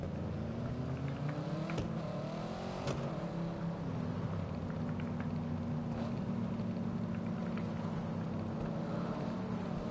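BMW car on a test drive, a steady engine drone with rising and falling pitch as it accelerates, continuous and close, with a couple of sharp clicks and no talk.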